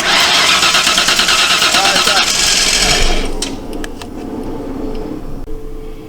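A 1995 Ford F-150 barn-find truck cranks and fires up, its engine roaring loudly for a few seconds before settling into a rougher, quieter idle with a few sharp clicks.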